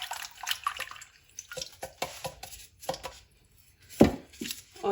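A peeled garlic clove is washed under running kitchen tap water, with intermittent splashing, close and moderately loud, along with a few sharp handling knocks.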